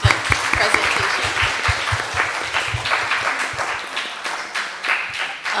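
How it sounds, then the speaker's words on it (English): A colloquium audience applauds a panel of science presenters with loud, dense clapping that carries on steadily for several seconds and then begins to taper slightly. "I would just like to ask the audience to give another round of applause for all of you and your excellent presentation"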